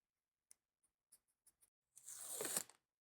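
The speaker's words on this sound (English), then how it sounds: "cut it off in little squares, peel it off on the back, and I'm going to stick it up there" Adhesive backing peeling off foam sound-deadening strips cut into small squares for a Toyota Tundra door: a few faint ticks and taps, then one close, rasping tear lasting under a second.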